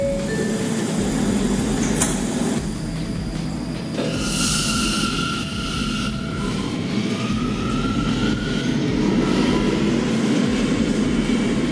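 Subway train pulling away in the Roblox game The Subway Initiative: a loud, continuous rumble and rising electric motor whine, with a sharp click near the start and faint rail clatter, no talking.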